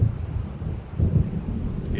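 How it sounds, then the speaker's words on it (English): Low rumbling thunder from a storm in the video game Alan Wake Remastered, a deep rolling swell that builds again midway, with a faint brush of wind. "It seems there's a storm coming."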